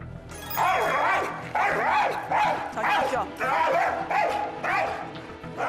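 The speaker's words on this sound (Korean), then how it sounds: "이게 짖는 것도 아니고 어떻게 악 쓰는 것 같지." A dog gives repeated strained, screeching yelps that are close to barking but shriller, with about six rhythmic outbursts, close and loud, while a person talks faintly underneath.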